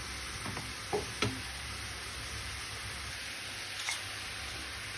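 Green peppers sizzle steadily in a hot pan for chicken wraps, with a couple of brief clinks and scrapes from stirring cutting through the continuous frying hiss.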